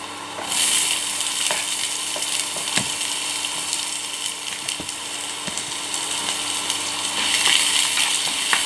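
Finely chopped onion sautéing in a pan, a loud, steady close-up sizzle with a dense hiss, punctuated by a few scattered clicks and scrapes from stirring, no voices.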